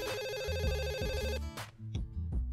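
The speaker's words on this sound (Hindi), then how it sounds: "देखो किसका फोन आ रहा है।" A telephone rings indoors at home with a repeating electronic ringtone that cuts off midway, followed by a few short thuds and clicks.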